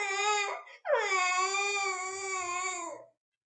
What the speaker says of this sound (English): I saw a hungry baby crying for food.